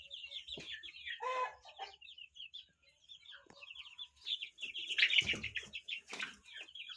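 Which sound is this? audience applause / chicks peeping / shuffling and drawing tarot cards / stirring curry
chicks peeping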